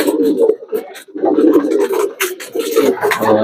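Pigeons coo continuously and close up while eating feed, a dense, throaty burbling chorus with flutters of wing and pecking noise mixed in.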